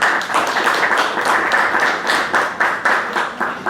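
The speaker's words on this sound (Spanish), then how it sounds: "Con ustedes, un fuerte aplauso por favor para recibirlo." Audience applause welcoming a singer at a tribute evening for Iván Oñate, a dense crowd of hands clapping steadily throughout, loud and close, with no talk over it.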